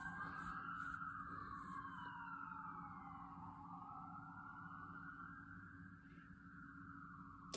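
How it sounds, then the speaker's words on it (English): A wailing siren rises and falls steadily, somewhat distant, sounding continuously under a low rumble of traffic with no voices. "I heard the sirens all day."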